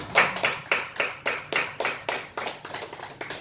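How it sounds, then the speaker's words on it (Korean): A church congregation claps in a steady, even rhythm, about three claps per second, close and crisp with no talk over it. "우리 하나님께 영광의 박수 한번 올려드리겠습니다"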